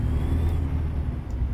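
Truck in the video game American Truck Simulator passing close by, a loud, steady low engine rumble and road whir over a short stretch, with no talking.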